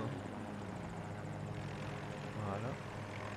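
A helicopter in Battlefield 2042 gives off a steady, droning rotor and engine whir at a constant level. A faint rising whine comes through near the end, and someone talks over it.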